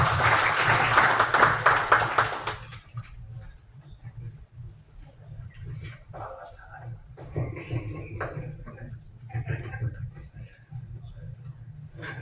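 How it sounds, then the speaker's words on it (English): An audience at a tech presentation claps for about two seconds, a bright, loud burst of applause that cuts off abruptly, followed by someone speaking over a quiet room hum. "let's give Phil a round of applause"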